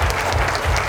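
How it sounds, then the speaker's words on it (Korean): A brief burst of audience applause at a social welfare vision event, loud and dense for under a second. "큰 박수 한 번 더 부탁드리겠습니다"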